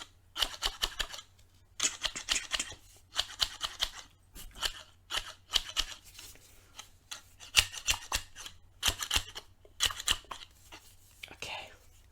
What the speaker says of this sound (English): This is only the third time I've used these scissors.